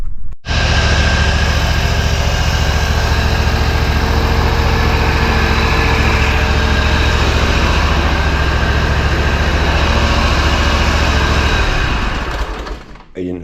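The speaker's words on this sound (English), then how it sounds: "But the new engine sounds pretty good." Newly swapped Briggs engine on a Cub Cadet tank tractor running steadily at a constant high idle, loud and close, then cutting off near the end.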